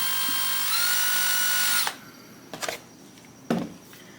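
Power drill drilling a hole for a recessed Telly-style guitar jack, a loud whirring run of about two seconds that stops abruptly, followed by a few short handling clunks.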